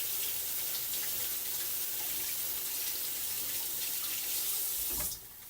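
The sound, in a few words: washing hands under running tap water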